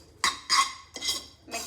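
Metal cutlery scraping and clinking against a bowl while Korean-style Maggi noodles are mixed, four distinct close strokes in an uneven rhythm, no talking.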